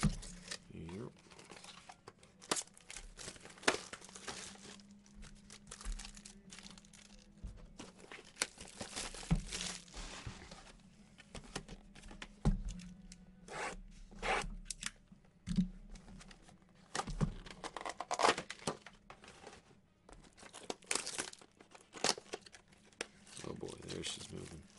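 Foil trading card packs from a 2019 Finest baseball case break being ripped open, with repeated crinkling and tearing bursts, fairly close and moderately quiet, interspersed with someone talking.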